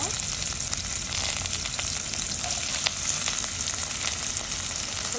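Cinnamon, bay leaf, onion and green chili frying in a pot for pulao, a steady broadband sizzle that holds evenly throughout with faint stirring clicks, close and moderately loud, no talk.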